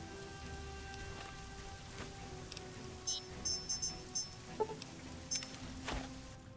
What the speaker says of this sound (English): Hopefully the rain will be gone by the time I get there.